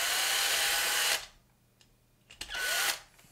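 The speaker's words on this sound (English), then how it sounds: "Let me drill them quick and I'll let you know." A power drill whines loudly at close range in two bursts, a long one followed by a shorter one, with a quiet gap between, drilling into a light die-cast model car.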